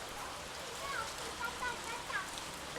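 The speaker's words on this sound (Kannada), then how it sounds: "ಸುರಿಯುತ್ತಿರುವ ಭೀಕರ ಮಳೆ, ಜೋರಾಗಿ ಬರುವಂಥ ಗಾಳಿಯಿಂದಾಗಿ ನಮ್ಮ ಗೋಶಾಲೆಯ ಮೇಲ್ಛಾವಣಿಗಳೆಲ್ಲ ಹಾರಿ ಹೋಗಿದ್ದು" Heavy rain pours steadily over a cow shelter whose roofs have been torn off by strong wind, making a dense, even hiss throughout with faint voices underneath.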